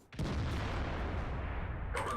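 A World of Tanks artillery gun fires one shot, a sharp boom that opens into a loud, sustained rumble with no voices over it.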